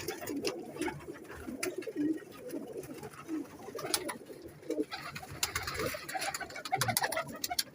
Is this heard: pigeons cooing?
yes